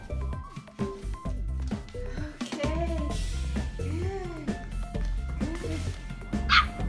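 A miniature poodle puppy whimpers and yips repeatedly in short, rising cries while struggling up stairs, close by, with faint sounds of movement between the whines.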